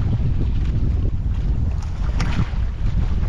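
Strong wind roars continuously across a drifting boat on open water, a dense close rumble with gusting swells and no pauses.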